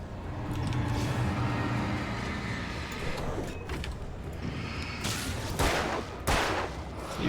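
Gunfire rings out in the Alan Wake video game, several sharp bursts of shots against an ambient game backdrop, growing louder and denser toward the end.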